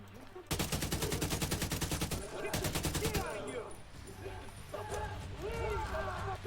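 Automatic gunfire in The Division 2, a fast, rhythmic burst of rounds that runs loud and close for nearly three seconds, then gives way to shouting and voices over game ambience.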